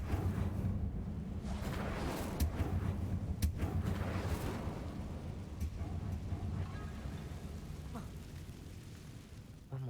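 An Incendio fire spell is cast during a Harry Potter duelling-club video game match as a broad, roaring rush of noise with crackling bursts. It starts loud and sustained, then slowly thins out.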